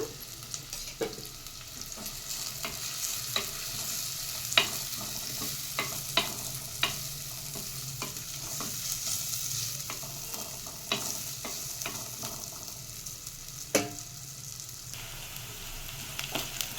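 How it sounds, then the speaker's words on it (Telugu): Chicken curry ingredients fry with a steady, soft sizzle in a clay pot, punctuated by occasional scrapes and taps of stirring; no talking. "చూసారండి, వేగుతుంది, బాగా వేగింది"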